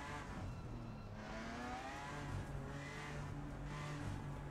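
A GT4 race car in Assetto Corsa Competizione at Bathurst holds a steady, throaty engine drone that rises and falls slightly in pitch, heard fairly faintly and alone with no one speaking.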